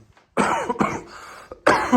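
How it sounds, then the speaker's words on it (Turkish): Several harsh, close coughs in quick succession, a short pause, then another loud cough. "Bak öksürüyorum zaten"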